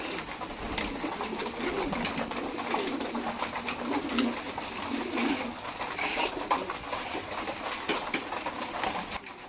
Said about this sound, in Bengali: দেখেন ছটফট করতেছে কবুতর খাবার জন্য